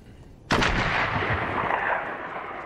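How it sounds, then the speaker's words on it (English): Video-game sniper rifle fire: one sharp, loud shot cracks out suddenly and then rolls into a long, booming echo that slowly fades. "somebody's got a sniper"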